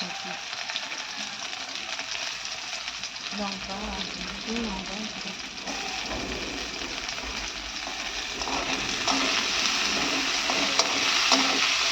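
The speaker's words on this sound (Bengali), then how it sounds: "তো করলাটা একটু ভেজে নেব।" Bitter gourd sizzles steadily in hot oil in a pan with onions and chilies, a dense, continuous crackle that swells slightly louder toward the end, with brief stirring scrapes and faint talk in the background.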